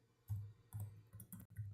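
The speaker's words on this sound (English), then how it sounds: "We'll just type it out." Keystrokes on a computer keyboard while coding, a short cluster of soft, close clicks in uneven bursts.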